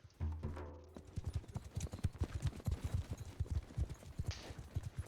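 Galloping horse hooves in a competitive video game battle pound in a quick, steady clip-clop rhythm, loud and close, with faint battle noise beneath.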